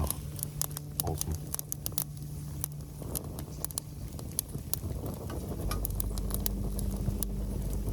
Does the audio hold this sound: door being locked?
no